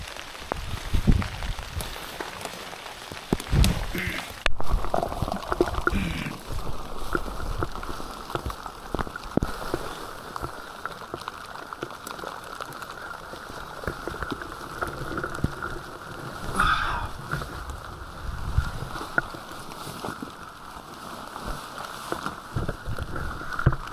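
Steady rain falls throughout in the Snowdonia wilderness, a continuous dense patter with an even hiss that never lets up. No one speaks.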